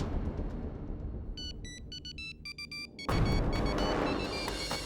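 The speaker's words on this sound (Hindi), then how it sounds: "ये शायद अवनी का फोन।" A mobile phone rings with short, bright electronic tone bursts in a repeating pattern over a steady background rumble, fairly close but not loud.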